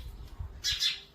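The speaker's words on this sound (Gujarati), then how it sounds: "જો ચકલા" Sparrows nesting inside a home give a brief burst of two or three quick, close chirps over quiet room tone.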